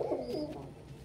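A pigeon gives a single soft, low coo, close by but quiet, with faint background noise and no talk.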